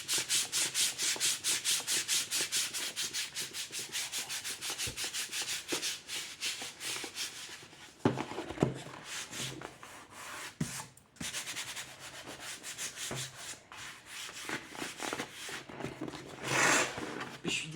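Glued paper is rubbed firmly by hand for a scrapbook box craft, giving a close, scratchy rasp in rapid strokes that slow and turn more irregular partway through, without speech.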